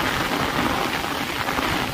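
Heavy monsoon rain driven by wind during the first downpour of Sawan pours loudly and steadily, a dense, close hiss with no voices.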